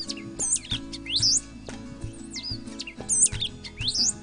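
Sabiá-do-banhado calling in the high grassland of Serra da Mantiqueira, repeated sharp high chirps and whistled notes over a low ambient drone, clear and fairly close, no voices.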